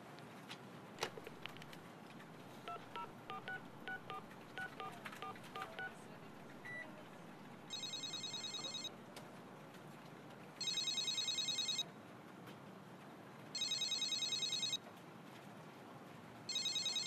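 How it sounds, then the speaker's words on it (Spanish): Telephone dialing tones followed by repeated electronic ringing in bursts, a phone call placed to a man's phone during a tense interrogation scene in a Spanish-language spy drama; rings come in regular pulses over a steady low background. "Es el teléfono de Bahram."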